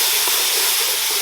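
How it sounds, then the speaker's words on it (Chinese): Ginger, garlic and pickled chilies sizzling in a little hot oil in a wok, a loud, steady, dense hiss and crackle that stays even throughout, close up and with no talking. "锅里头剩一点底油，把那些姜蒜壳壳啊都倒进来，还有生姜泡海椒哈"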